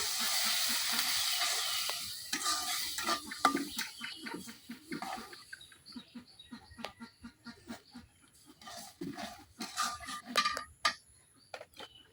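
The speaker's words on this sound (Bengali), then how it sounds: "এখন শুটকিগুলা কিছুক্ষণ কষাই নেন" Shutki, Bangladeshi dried fish seasoned with chilli powder, green chillies and salt, is stirred in a hot pan in a village kitchen, a sizzling hiss giving way to irregular scraping and clattering strokes, with birds calling nearby.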